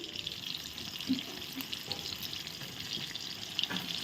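Steady, close sizzling of eggplant frying in hot oil in a pan, a continuous crackling hiss with a few small pops.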